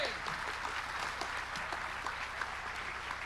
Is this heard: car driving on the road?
no